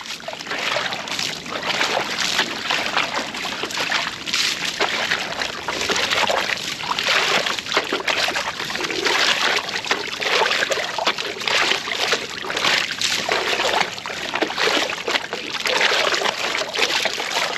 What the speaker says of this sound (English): See how I'm swirling everything out?